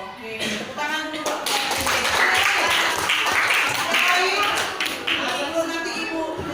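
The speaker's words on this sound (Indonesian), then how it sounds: "Oke, tepuk tangan dulu." A class applauds after a singing exercise led by a student conductor, steady clapping from many hands filling the room, mixed with murmuring voices and shuffling throughout.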